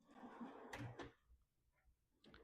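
A tool chest drawer slides open in a mobile mechanic's tool setup with a brief rolling rush and a couple of soft clunks, followed by faint small knocks.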